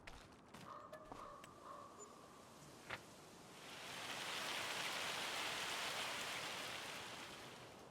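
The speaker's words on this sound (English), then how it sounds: "little bit of rain for the grass." Faint, steady rain in the video game Farming Simulator 25 patters and hisses, swelling gradually louder, with a few soft clicks and a creak early on.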